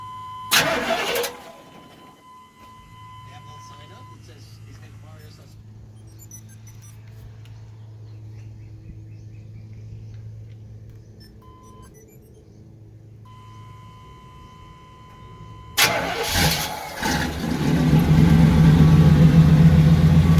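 A 1993 Chevrolet OBS single-cab pickup cranks over with a short loud burst, settles into a steady low idle for several seconds, then revs up loudly near the end, heard close with no talking.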